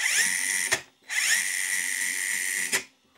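An RC4WD Miller Motorsports Rock Racer drivetrain spins in two-speed mode on full drag brake, giving a steady high whine in two sustained bursts, each ending in a brief sharp blip and short pause.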